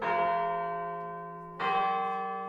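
Two strokes of a church bell ring out in a visual novel game, each with a sharp clang and a sustained humming decay, the second coming about a second and a half after the first.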